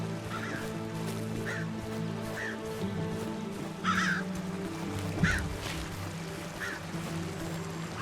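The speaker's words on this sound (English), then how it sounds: "Oh, apparently there's birds I can shoot or something." Crows caw repeatedly in the Robin Hood: Sherwood Builders game, single harsh calls spaced roughly a second apart over a low steady ambient hum, with one louder caw near the middle.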